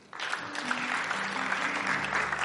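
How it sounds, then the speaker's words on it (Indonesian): A church congregation at an Ascension Day service applauds together, dense sustained clapping swelling in quickly and holding steady, fairly loud and close. "Beri tepuk tangan buat Tuhan"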